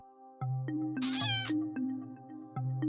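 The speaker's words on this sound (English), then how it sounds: "This is our new kitten, Ringo." Kitten meowing indoors at a sculpting session, a close cat voice with a steady low hum and several short high meows, including one loud, strained caterwaul mid-clip.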